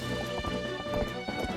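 Horse hooves clattering in The Legend of Zelda: Twilight Princess, a steady rapid clip-clop of galloping under a dense game soundtrack, with no talk.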